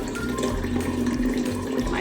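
Distilled water pours steadily into a jar to dissolve sugar for a home kombucha batch, a continuous close splashing trickle with no speech.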